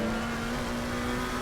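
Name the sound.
race car downshifting, engine braking, Assetto Corsa Competizione video game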